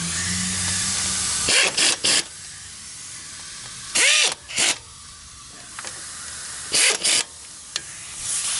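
Power tool, likely an impact wrench, tightening bolts on a Jeep Wrangler YJ front end, loud short bursts in pairs with pauses between, close by.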